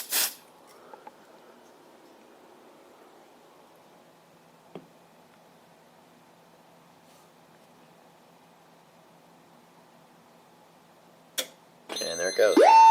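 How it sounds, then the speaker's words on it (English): A smoke detector being tested with canned smoke on a 5808 voice evacuation fire alarm system: a quiet stretch with a few faint clicks, then a loud, piercing, tonal alarm that starts near the end and keeps sounding. "I'm going to go ahead and test the smoke detector."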